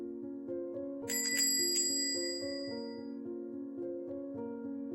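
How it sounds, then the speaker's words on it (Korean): A bell hung at the entrance door of a tutoring academy waiting room rings, a bright metallic jingle of a few quick strikes over a steady low hum from a heater. "출입구에 걸어둔 종이 울렸다"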